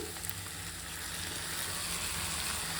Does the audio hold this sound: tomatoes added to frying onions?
yes